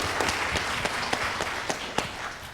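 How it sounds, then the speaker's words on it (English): Applause from an audience at an opioid summit, a moderate wash of clapping with a few sharper individual claps standing out, steady and not very loud throughout. "applause."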